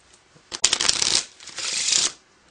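Two quick riffles of a deck of playing cards being shuffled, crisp and close, with a brief pause between them.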